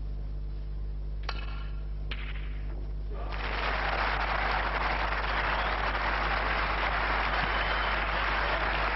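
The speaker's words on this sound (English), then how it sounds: "A generous round of applause" Applause bursts out from a snooker match audience after a tricky plant shot, swelling to sustained, dense clapping that fills the hall steadily for several seconds.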